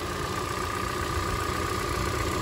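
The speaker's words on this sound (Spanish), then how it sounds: "pero el motor se escucha como si nada" A Hyundai Elantra engine idles with a steady, even mechanical hum, recorded close with no talking over it.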